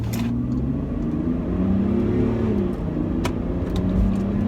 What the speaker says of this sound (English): this car really does pull and give you that nice German hum whenever you get up